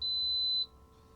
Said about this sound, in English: It'll go from when it beeps and turns on.